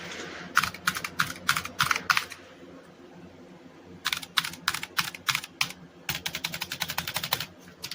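Fingers type on a Razer Huntsman Mini 60% gaming keyboard with clicky switches. Crisp, rapid keystrokes come in bursts, with a brief pause in the middle and a steady murmur of room noise underneath.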